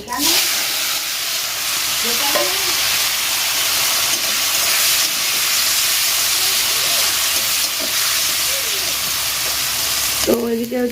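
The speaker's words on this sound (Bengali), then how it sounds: "এই চিংড়ি মাছগুলো তেলের উপরে দিয়ে একেবারে ভেজে নেবো" Prawns fry in hot oil in a wok with a loud, continuous hissing sizzle throughout, and a faint voice is heard near the beginning and end.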